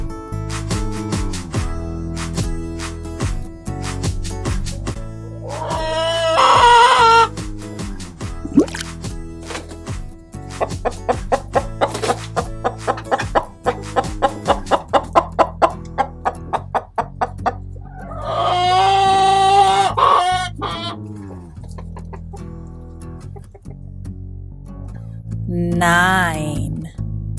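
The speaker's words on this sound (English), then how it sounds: "chickens." Cartoon chickens cluck in short bursts over an upbeat children's farm song with steady plucked notes, the clucks rising above the music a few times.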